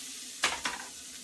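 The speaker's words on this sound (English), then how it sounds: "Put in your cauliflower rice." Cauliflower rice with mirepoix hitting a hot pan: two quick bursts of sizzle and stirring over a faint steady hiss, close and brief.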